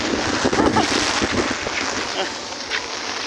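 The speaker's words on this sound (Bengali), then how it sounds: "প্রচুর বৃষ্টি হইতেছে আজকে, সাথে বাতাস আছে, অনেক অনেক বাতাস, অনেক বৃষ্টি, বাতাস" Strong wind and heavy rain in Dhaka roar as a dense, steady wash across the whole range, with gusty buffeting close to the microphone and faint voices underneath.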